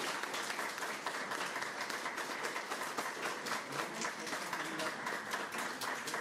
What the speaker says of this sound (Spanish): nada más me queda que les ofrezcamos un fuerte aplauso